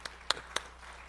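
A few scattered handclaps in a church gathering, three or four sharp separate claps, fairly faint and sparse rather than full applause.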